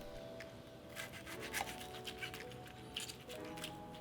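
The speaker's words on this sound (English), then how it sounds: "Let's cut into it." A knife cuts through crispy miso honey glazed salmon topped with scallion, giving soft crunching and scraping bursts. The crackle comes close up and fairly quiet, in short patches over a low background hum.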